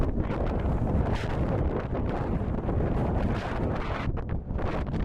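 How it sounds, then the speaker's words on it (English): Strong wind buffets the microphone on an exposed mountaintop along a long-distance hiking trail, a steady, loud roar with gusty surges throughout and no other sounds. "It's windy"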